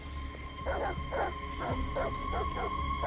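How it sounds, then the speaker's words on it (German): Dogs bark in a video game set in a near-future Detroit, a regular run of about six yapping barks at mid distance over a steady electronic hum and low background rumble. "Verdammte Hunde. Warum bellen sie schon wieder?"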